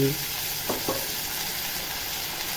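Soaked whole masoor lentils go into sautéed frying masala and are stirred, producing a continuous close sizzle with a couple of quick scraping stir sounds near the start.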